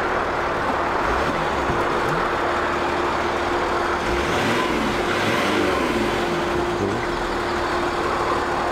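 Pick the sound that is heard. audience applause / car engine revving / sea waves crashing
car engine revving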